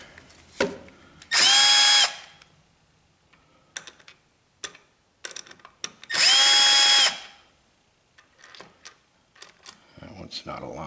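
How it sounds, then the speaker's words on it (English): A power drill bores holes in an Ariens snow blower while an LED light is installed, with two loud bursts of about a second each close up, separated by clicks and handling taps, and a voice in between. "I've drilled a few holes in it now"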